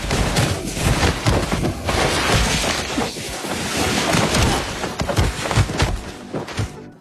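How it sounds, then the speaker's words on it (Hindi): A sniper rifle shot in a dramatic film scene, loud and sharp amid dense crashing impacts and booming action sound effects that fill the whole stretch without pause. "तभी एक गोली चली।"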